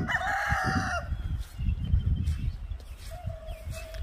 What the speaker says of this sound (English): You can hear our big guy over there crowing